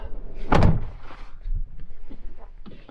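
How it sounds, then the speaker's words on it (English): A van door closes with a single heavy, close thunk and slam, followed by softer rattles and rustling movement inside the vehicle. "Close that door again so you can see those better."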